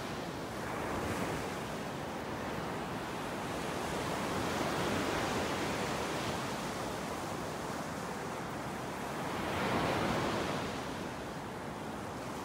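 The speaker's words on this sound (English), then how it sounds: "With these waves, the high tides have been a little higher than normal." Ocean waves roll onto a beach in North Naples, Florida, during higher-than-normal tides: a continuous loud surf wash with slow swells of intensity, mixed with some wind noise.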